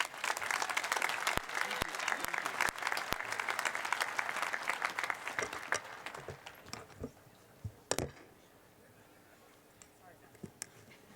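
A commencement audience at the University of Northern Colorado applauding the keynote speaker, a large crowd's sustained clapping and cheering that gradually thins to scattered claps near the end.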